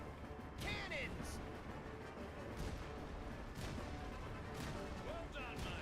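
Cannon fire in Kingdom Hearts 3, several heavy booms spaced across a busy battle, mixed with clashing effects and voices shouting under the din.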